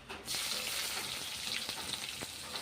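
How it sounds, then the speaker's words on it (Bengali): Onion dropped into hot tempering oil with mustard seeds, dried chilli, cinnamon and curry leaves bursts into a loud, steady sizzle that continues without speech. "এবারে ফোড়নে পেঁয়াজটা দিয়ে দেবো।"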